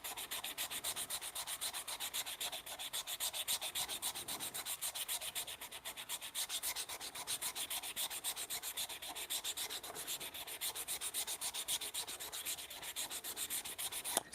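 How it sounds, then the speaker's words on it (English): Steady, close sanding rubs continuously over a wooden bunk bed rail to clear away still-wet glue. The back-and-forth strokes keep an even rhythm from start to finish, with no talking. "Just sanding off this glue while it's still wet here."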